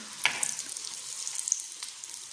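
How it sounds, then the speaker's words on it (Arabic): Chicken pieces frying in a pan, giving a soft, steady sizzle with scattered small pops and crackles, fairly quiet and close, with no talking. "قلينا الدجاج التحتانية دوك نقلبو الدجاج الفوقانية يطيب على زوج جهات"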